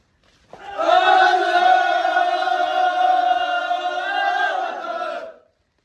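A crowd at a Ramadan gathering shouts a sustained, unified response of Allahu Akbar after a takbir call, voices loud and close, holding one long drawn-out cry for about five seconds before cutting off.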